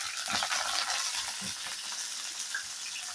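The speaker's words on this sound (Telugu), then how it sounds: "చిటపటలాడుతున్నాయండి" Tempering with black gram dal crackling and sizzling in hot oil for upma, a steady close frying hiss with scattered small pops and stirring, no talk.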